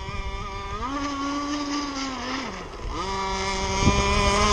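A ZippKits Super Sport model boat's engine, not yet tuned, buzzes loudly nearby, its pitch sliding down and climbing again as the throttle changes over a few seconds, with no talking.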